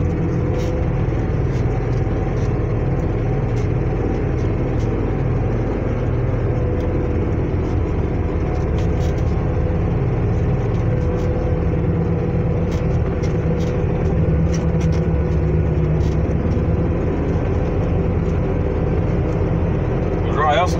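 Heavy truck engine pulling hard in third gear after a downshift on a steep dirt road, a loud, steady low drone close up with faint brake-air hiss, and voices talking over it.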